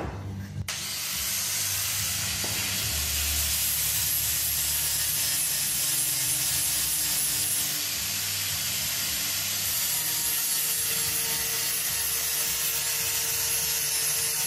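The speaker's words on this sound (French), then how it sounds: "l'idée, c'est que je vais faire le test avec la meuleuse" An angle grinder with a grinding disc is pressed against glass on a construction job. It starts abruptly and then gives a loud, steady, harsh whine with a hissing rasp that holds almost unbroken for about fourteen seconds.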